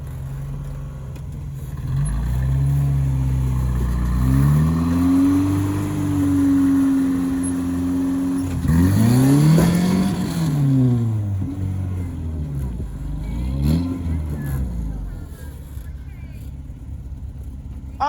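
A Hemi-swapped Jeep TJ buggy off-road, its engine droning and rising through repeated revs, climbing in pitch, dropping back and surging again, loud and close throughout with some voices underneath.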